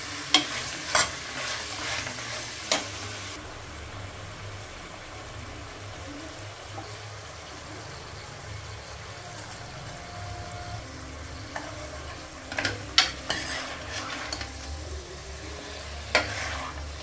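Chicken seasoned with turmeric and salt sizzles and fries steadily in a pan, with occasional sharp scraping and stirring clatters from a utensil at the start and again near the end.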